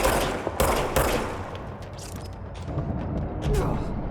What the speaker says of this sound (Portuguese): Vou dar uns tiros nesses bichos aqui.